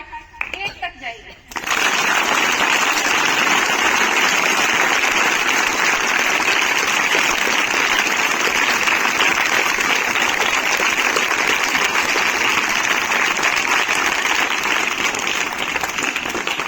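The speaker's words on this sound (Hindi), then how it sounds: "एक बार जोरदार तालियां" Students applaud loudly and steadily for a former Indian Army naib subedar at a school event; after a brief quieter moment, the dense crowd clapping fills the rest of the clip without a break.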